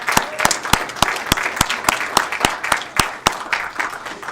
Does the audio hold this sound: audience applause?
yes